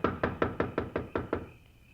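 Eight sharp knocks on a front door in a steady, evenly spaced rhythm, close and fairly loud, each rap ringing briefly before the last one fades into quiet.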